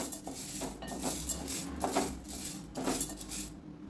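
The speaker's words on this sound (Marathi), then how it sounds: "हरभऱ्याची डाळ घालूया. सगळ्या डाळी आपल्याला वेगवेगळ्या भाजून घ्यायच्या आहे. एकसारखं ढवत राहा." Chana dal roasts in a pan over a medium flame while a spoon keeps stirring it, giving close, continuous scraping and rattling with a few louder sweeps and no voices.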